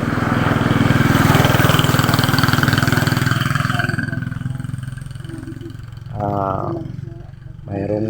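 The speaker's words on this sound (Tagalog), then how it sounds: "mayroong motor nga nagdaan" A motorcycle passes on a rural road toward town, its engine loud and droning before fading away, while someone talks over it.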